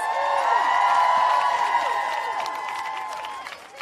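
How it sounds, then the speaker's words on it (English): Rally crowd applauding and cheering for a US senator from Minnesota at a political rally against a Supreme Court nominee, with whoops and voices over steady clapping that stays loud and gradually thins toward the end. "Give her a round of applause."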